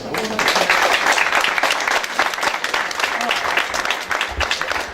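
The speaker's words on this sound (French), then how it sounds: "on entend toujours des applaudissements" Steady, dense applause from a large crowd at the Miss Picardie 2017 pageant prize-giving, loud and continuous throughout, with voices faintly mixed in.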